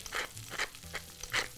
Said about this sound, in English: continue to whisk the cheese into our fonduta